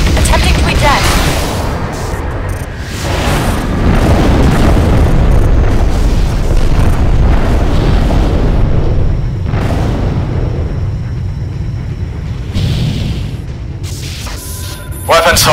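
A space station blowing apart in a space-combat video game, a loud sustained roar of deep booming explosions and crashing debris filling the whole stretch, with bursts swelling and fading amid the din.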